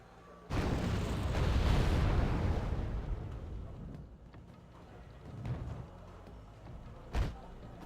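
Tunguska anti-aircraft fire aimed at helicopters in Wargame Airland Battle: a sudden heavy burst of booming fire rolling for a few seconds, then quieter distant thumps and one sharp late blast.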